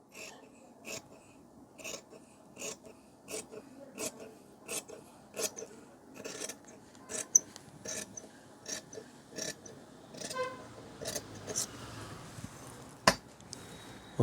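Scissors cut through shirt fabric along a marked line during tailoring, a steady series of crisp, rhythmic snips close by, about one every half second, with no talking.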